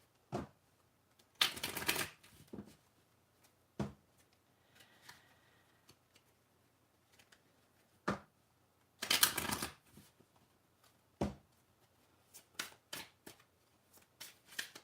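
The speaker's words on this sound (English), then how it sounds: "I just felt like I needed to shuffle to get the reversals positioned differently" Tarot cards being shuffled in short bursts, a couple of longer riffles and several quick flicks and taps, close up in a quiet room.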